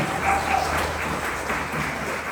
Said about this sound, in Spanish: Vamos a dar un aplauso a nuestro Dios.